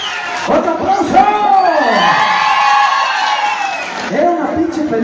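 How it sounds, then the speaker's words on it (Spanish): Festival crowd in Santa María Malacatepec cheering and shouting with applause beneath, a loud continuous roar of voices and whoops, with a voice calling out over it. "¡Otro aplauso!"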